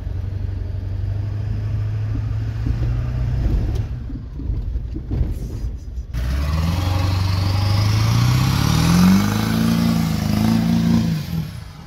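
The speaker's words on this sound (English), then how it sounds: "You can hear the turbo now though." A heavy diesel truck engine rumbles steadily, drops off, then revs up with a rising turbo whine and hiss as it accelerates.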